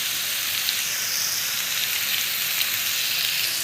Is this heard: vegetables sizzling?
yes